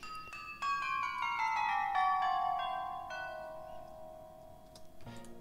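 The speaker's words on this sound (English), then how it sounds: "sinister or more evil sounding bell part, which sounds like this." Sinister bell part in a Logic Pro X score: a run of ringing bell tones descending in pitch, each chime sustaining and overlapping, then a low resonant tone that fades before a faint closing strike.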